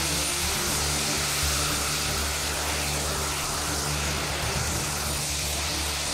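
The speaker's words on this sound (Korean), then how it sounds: "플라잉 수트는 제트 엔진 여러 개를 몸에 두르는 엑소수트인데요." A jet-engine flying suit, an exoskeleton with two mini jet engines on each arm and a large jet engine on the back, gives off a steady, loud roar that holds throughout.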